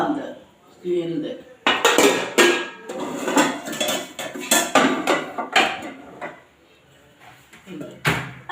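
A steel pot lid being handled in a kitchen, with sharp metallic clanks and knocks in uneven bursts, close and fairly loud, while someone talks.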